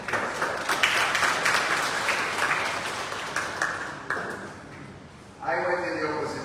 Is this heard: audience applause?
yes